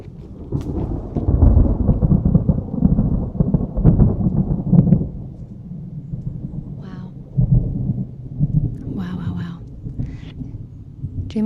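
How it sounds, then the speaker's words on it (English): Thunder from a storm passing over a zone 3 garden, deep rolling rumbles that boom and fade in long waves, loud and near, with a few faint high chirps in the background. "Let's hope the mountains aren't getting this storm as well."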